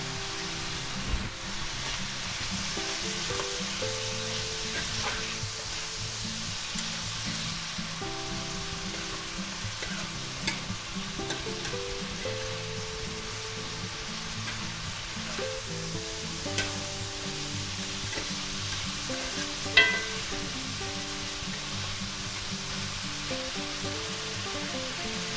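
Mushrooms and minced garlic fry in a pan, a steady close sizzle with occasional scrapes and clinks of stirring throughout, with no talk.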